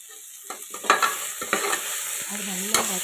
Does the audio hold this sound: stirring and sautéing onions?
yes